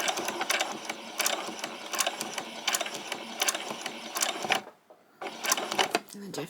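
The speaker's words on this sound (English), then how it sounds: "do a few back stitches" A sewing machine stitches a white summer top in rapid mechanical bursts of needle clatter. Short stops fall between runs and a longer pause comes near the end.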